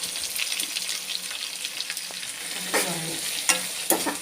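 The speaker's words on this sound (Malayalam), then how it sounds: "നമുക്കിനി ഇതിനകത്തിലേക്ക് അരിഞ്ഞു വെച്ചിരിക്കുന്ന സവാള ഇട്ട് കൊടുക്കാം" Chopped onions sizzle in a pan with roasted coconut while a clam roast is prepared; a steady frying hiss runs throughout with occasional stirring scrapes and clinks, close and with no talking.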